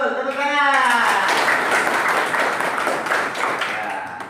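Students in a classroom break into applause right after a voice speaks briefly at the start, the clapping loud and dense, then easing off toward the end.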